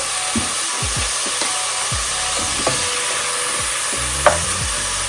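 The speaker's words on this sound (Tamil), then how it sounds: "வெங்காயம் தாளிக்கின்றேன்" A steady sizzle of onions frying in sesame oil, with intermittent scraping and stirring sounds from a utensil in the pan.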